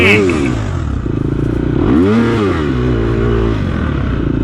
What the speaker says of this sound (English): Listen to my engine.